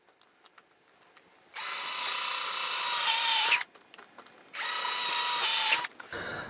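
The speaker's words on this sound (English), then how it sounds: "I want to go ahead and add the screws that are going to go down into my riser" A power drill drives screws into a wooden model railroad riser to hold the roadbed down, two sustained whirring bursts of a few seconds each, close and loud, with faint handling clicks between and no talk.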